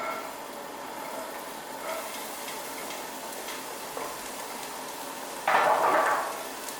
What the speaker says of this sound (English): I've heated a bit of olive oil in the pan. Let's put the onions.